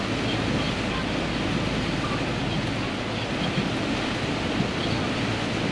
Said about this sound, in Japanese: 雨の音がひどすぎて ETC 何喋ってるかわからん。